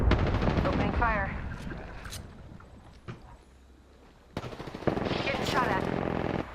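Video game gunfire in bursts of rapid shots, loud and close at the start, thinning to a few scattered cracks, then dense firing again at the end, with a voice calling out over the action.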